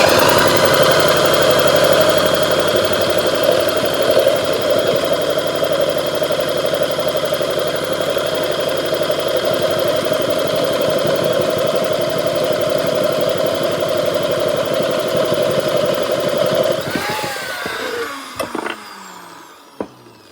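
A Honda GX160 small engine runs steadily and loud at a rough idle for most of the stretch, then cuts out, leaving a few faint clicks and knocks.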